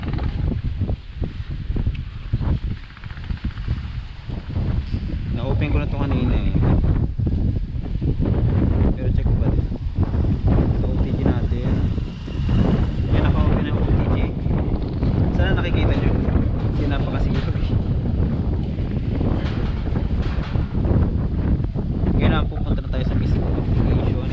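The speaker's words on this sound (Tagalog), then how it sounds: "lakas ng hangin ngayon" Strong wind buffets the microphone with loud, continuous rumbling gusts that never let up, outdoors while flying a DJI Mini 3 drone.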